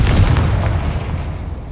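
A Confringo blasting curse going off in Hogwarts Legacy, a single deep booming explosion that hits hard at the start and then rumbles and fades over a second or so.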